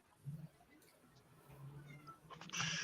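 A cat meows a few times amid the background murmur of a live NFL draft crowd in Kansas City, with a brighter, louder cry at the end.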